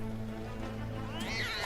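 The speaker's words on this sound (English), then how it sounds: "Cat noise." A short, rising cat meow cuts in near the end over a steady low hum and background sound.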